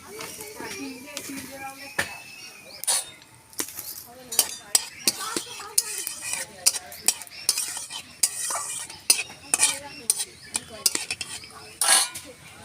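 Black cumin seeds tempering in hot mustard oil with a light sizzle, while a spoon stirs and clinks repeatedly against a metal pan and utensils knock in sharp bursts.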